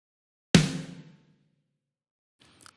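A single loud, punchy snare hit blending the Logic drum snare with a Yosh Warehouse trigger, decaying over about half a second, then a faint brief rustle.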